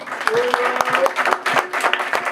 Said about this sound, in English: massive round of applause for both of them